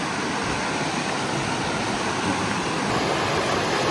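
Steady rushing water of a fast mountain stream in the Pyrenees, a dense broadband roar that stays constant and close throughout with no voices.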